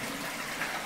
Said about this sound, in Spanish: corriente de agua